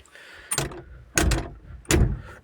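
A T-25 tractor's cab door shuts three times in a row, each a loud, close thud with a short rattle, spaced about 0.7 seconds apart against a low background hum.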